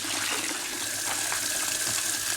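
Water poured steadily into a compressed coco coir block, a continuous broadband splashing and trickling rush that stays close and even throughout, with no talk over it.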